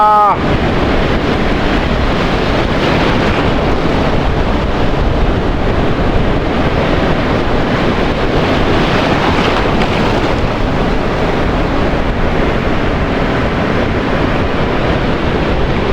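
Ocean waves wash onto a resort beach in a steady, loud roar, heavily buffeted by wind against the microphone, with no break for the whole stretch.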